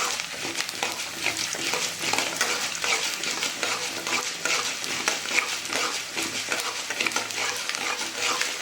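Dried red chillies frying in a pan with urad dal, chana dal and peanuts, giving a steady, close crackling sizzle with faint stirring clinks throughout.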